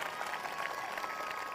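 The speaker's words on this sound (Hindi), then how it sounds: "जोरदार ताली बजाकर धन्यवाद दें।" A brief burst of congregation applause at a church prayer gathering, a fairly faint, even clatter of many hands clapping for under two seconds.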